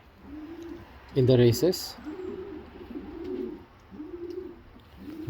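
Racing homer pigeon, a young breeder bird, giving repeated soft low coos in short phrases, close by, interrupted once by a brief spoken voice.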